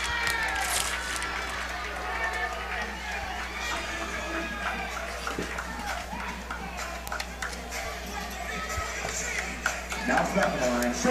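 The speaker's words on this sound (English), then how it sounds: "And listen to this crowd" A crowd at a college baseball game between the Paine College Lions and the Voorhees Tigers fills the air with a continuous roar of chatter and cheering, and voices rise over it near the end.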